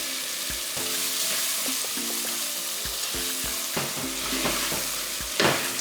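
Peppers fry in a pan on high heat with seasoning powder and salt, a dense steady sizzle broken by the clatter of a utensil stirring and scraping, close and loud.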